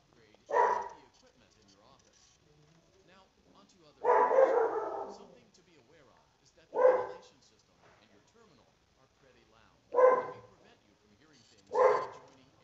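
A dog barks five times in short, separate bursts with quiet gaps between them, fairly close and loud.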